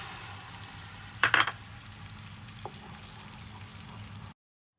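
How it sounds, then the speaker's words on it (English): Eggs scrambled in a drop of oil in a pan over medium heat, with a steady low sizzle, a short louder burst of frying and stirring near the start, and a brief clink later before it cuts off. "we're adding a little bit of oil, just a drop. And we're going to add the eggs and scramble them"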